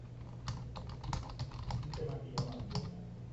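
Keys on a computer keyboard are tapped in quick irregular bursts while a password is entered, soft close clicks over a low steady hum, with a voice speaking faintly in the background.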